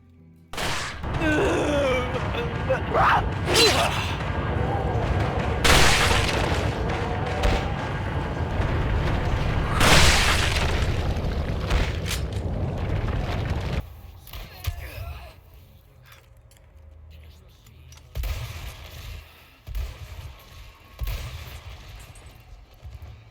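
Gunshots from the Resident Evil 4 Remake video game: several loud, sharp shots over dense game sound in the first half, then a quieter, sparser stretch with faint ambience.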